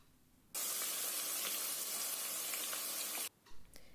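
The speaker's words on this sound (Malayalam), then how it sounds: "ഇനി ഇതെല്ലാം കൂടെ നല്ലതായിട്ടൊന്ന് വഴറ്റിയെടുക്കണം." Ground masala paste and crushed shallots sautéing for Dindigul Thalappakatti biryani: a loud, dense, continuous sizzle that starts abruptly, holds for about three seconds, then stops, with faint stirring scrapes afterward.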